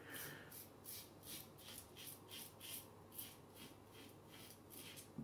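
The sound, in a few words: double-edge safety razor blade shaving stubble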